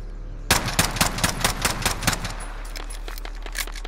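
Rapid bursts of automatic gunfire from an assault rifle in Call of Duty Warzone, a string of sharp close shots for about two seconds, then scattered quieter shots further off.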